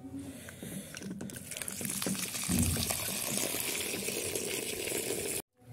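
Water runs and splashes steadily in a kitchen while grated carrots are rinsed, close and fairly quiet, with faint handling noises and no clear talk.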